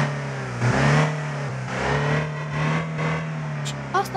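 Gavril Gladiator truck engine in BeamNG.drive revving with a steady low drone and rising, surging pitch, loud and continuous throughout, with a short high chirp near the end.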